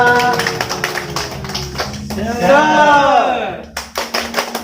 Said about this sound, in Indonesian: Bisa kasih tepuk tangan semangat dulu untuk kita semua